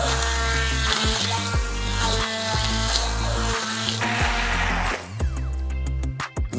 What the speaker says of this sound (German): Und jetzt fangt ihr einfach an, hier so ein bisschen das Ganze zu pürieren.